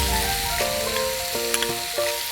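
Celery sizzles in a frying pan alongside sautéed onion, ginger, garlic, fish, baby corn and parsley, a steady close frying hiss with a faint tonal hum and a few brief stirring clicks, no voices.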